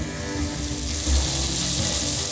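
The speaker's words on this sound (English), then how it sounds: "Sizzle, sizzle, manizzle." A grilled cheese sandwich with pepperoni and mustard sizzles in a hot pan, a steady close crackling hiss with faint low clatter underneath, unbroken for a couple of seconds and free of any voice.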